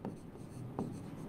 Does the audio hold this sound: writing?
yes